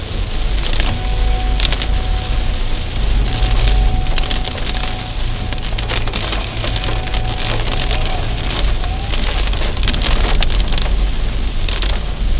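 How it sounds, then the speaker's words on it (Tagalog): Loud, dense roar of heavy rain pouring down continuously on Kennon Road to Baguio, heard from a dashcam, close and unbroken for the whole stretch, with no voices. "Ganyan kalakas ang ulan."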